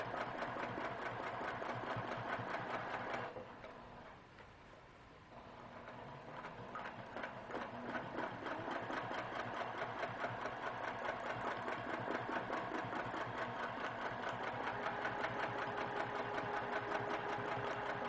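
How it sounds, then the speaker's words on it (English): A sewing machine stitches a quilt at an unhurried pace, its needle tapping in a steady, even rhythm with a brief pause midway before resuming. "And you can see I don't stitch real fast."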